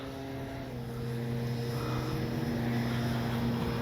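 A Hangar 9 J-3 Cub 10cc RC model plane flies with a steady, droning engine hum that holds constant and grows slightly louder throughout.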